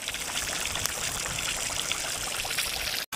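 Hot oil poured over a watermelon, dense continuous sizzling and crackling with tiny pops, steady and loud, ending in an abrupt brief cut near the end.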